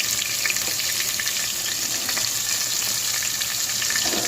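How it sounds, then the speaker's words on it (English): Sofrito hits hot achiote oil for Puerto Rican pasteles, giving a steady, dense sizzle that holds evenly throughout with faint crackles and no voices. "So we're gonna go ahead and add the sofrito to the achiote oil."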